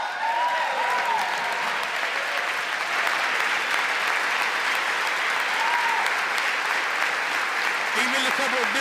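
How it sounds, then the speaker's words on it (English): Steady applause from a large chamber audience at the State of the Union address, continuous and fairly even throughout, with a voice briefly audible near the end. "Even a couple of Democrats are clapping for that."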